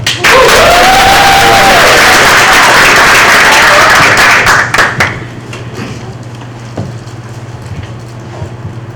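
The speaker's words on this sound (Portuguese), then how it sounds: "Com nossos aplausos, Alanca Barbosa." An audience applauds a speaker being introduced, loud dense clapping for about five seconds that stops abruptly, leaving a low steady hum and room noise.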